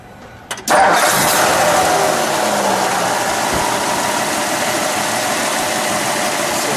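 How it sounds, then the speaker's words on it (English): A 1956 Lincoln Premiere Convertible V8 cranks briefly, catches and fires up, then settles into a loud, steady, smooth idle close by, with no talking. "can we start it up?"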